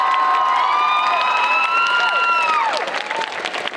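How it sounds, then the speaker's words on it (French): Audience at a cosplay contest award ceremony applauds the participants, a broad wash of clapping and cheering with voices and whoops carried on top, easing off slightly toward the end. "Donc je serais demandé d'applaudir tous les participants."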